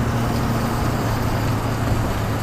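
A turbocharged car driving on a road at night hums as a steady low engine drone with road rumble, heard from inside the cabin and continuous from start to finish.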